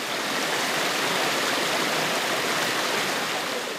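Lutyňka stream rushing past, a loud, dense and continuous hiss of flowing water, close and steady with nothing else heard over it.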